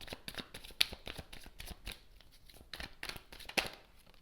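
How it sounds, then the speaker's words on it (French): Tarot cards being drawn and shuffled, a quick run of crisp riffling flicks and soft slides with a few sharper snaps, close to the microphone and fairly quiet, with no talk. "Je prends 3 cartes du tarot."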